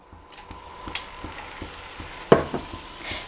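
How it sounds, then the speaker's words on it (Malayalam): Ground coconut paste is stirred into a horse gram curry in a pan, with soft, regular scraping and tapping of a spoon against the pot and a light sizzle beneath. One louder knock falls near the end. "തേങ്ങ ചേർത്തിട്ട് നന്നായിട്ട് ഇളക്കി കൊടുക്കുക"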